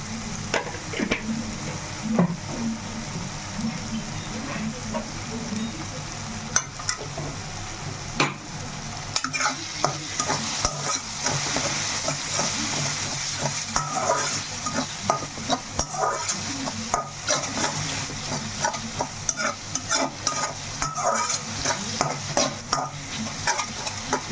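A spoon stirs salted dry fish curry ingredients in a pan, with brisk, repeated scraping and knocking over a steady frying sizzle, close and busy throughout.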